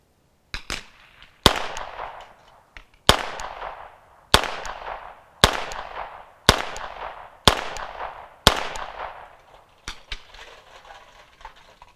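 A vz61 Skorpion fires .32 ACP rounds outdoors as a string of sharp, loud single shots at roughly one-second intervals, each with a short ringing tail, followed by a faint rustle.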